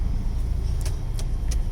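Car traffic in Surat rumbles as a dense, steady low roar, with a few faint higher clicks and rattles on top and no voices.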